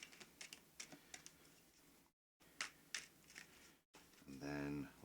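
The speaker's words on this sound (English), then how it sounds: "Just attempting to give this a good shuffle now." A deck of game cards is riffled and shuffled in several quick bursts of crisp, rapid flutters, with short pauses between them and a faint voice now and then.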